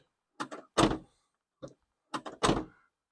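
The rear hatch of a Commodore car, its hinges freshly greased with white lithium grease, opens and closes in a few mechanical clunks and thuds, close by and separated by short silences.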